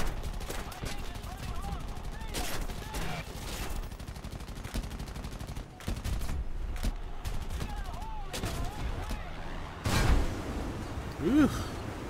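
Aircraft gunner in War Thunder firing repeated bursts of machine-gun fire, loud rattling volleys with short gaps and a heavier blast near the end, while someone speaks briefly.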